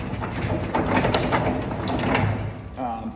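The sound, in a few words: shaking a U-bolt loose on a seed drill frame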